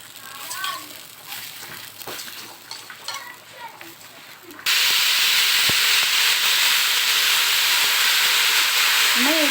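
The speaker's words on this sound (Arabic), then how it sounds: "احنا كده حطينا الميه" Hot water pours into a tray of potatoes and rice with seasoning, producing a loud, steady rushing hiss that starts abruptly after a stretch of softer kitchen sounds and someone talking.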